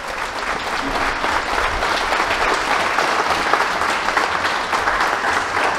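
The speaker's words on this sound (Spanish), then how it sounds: "Un aplauso también." A crowd at a village election for the communal property authority applauds after the vote count is read out, with sustained, even clapping throughout and no voices rising above it.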